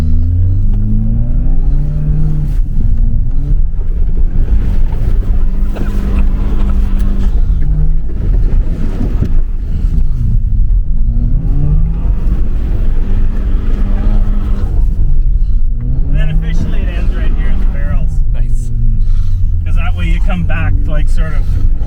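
A car engine rumbles and revs steadily inside a blue-collar garage, a close, continuous low drone with occasional acceleration, while people talk over it throughout.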